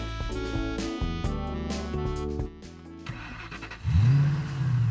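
A cartoon car engine cranks, catches and revs up in a playful animated sequence, with bright musical tones mixed in. The sound is close and moderately loud, and a rising whine swells near the end.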